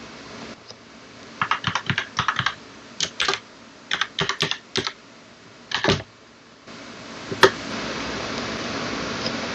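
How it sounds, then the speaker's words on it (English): Bursts of fast keystrokes on a computer keyboard as a router password is entered for a Linksys router, with short pauses between clusters of clicks and a final sharp tap, close and fairly quiet with no talking. "Now to access the router, key in the password that you have set up."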